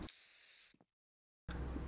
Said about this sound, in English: Over here, I'm going to spray another decal.